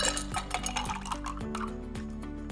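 A Bloody Mary cocktail rolled back and forth between vessels, with liquid pouring and sloshing, ice clinking against glass and metal in a steady rhythm, close and clear with no talk.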